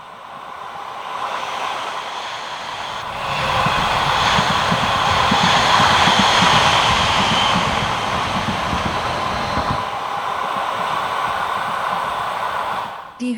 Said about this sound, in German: Hier sehen wir den Zug in voller Fahrt auf den Weg nach Chur.